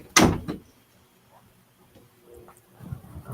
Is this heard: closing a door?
yes